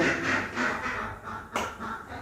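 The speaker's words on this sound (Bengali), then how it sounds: "এই হাঁসগুলো ডিস্টার্ব করতেছে যখনই আমার কথা শুনবে তখনই" Several ducks quack in a steady, repeated series close by, with no voices present.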